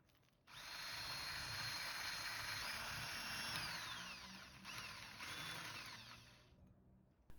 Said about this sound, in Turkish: Pudra şekerimizi de ekledikten sonra yaklaşık 5 dakika kadar daha çırpalım